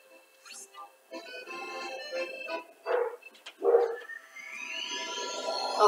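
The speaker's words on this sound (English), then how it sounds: "Oh, sorry, that's my dog." A pet dog barks at home in a few short bursts, somewhat distant and mixed with game sounds and speech in the room.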